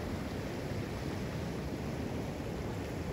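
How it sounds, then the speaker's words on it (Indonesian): Steady, dense wash of big ocean waves at sea at a fishing spot, a continuous broadband roar with wind-like hiss, fairly quiet and unbroken, with no voices. "Walaupun besar ombaknya,"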